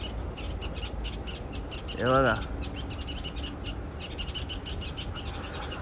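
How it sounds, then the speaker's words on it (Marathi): A bird calls once in a brief, loud, warbling burst rising and falling in pitch, heard close over steady outdoor background noise at a village haldi celebration, with a voice speaking briefly. "कसला भारी पक्षी ना. आवाज किती भारी आहे त्यांचा."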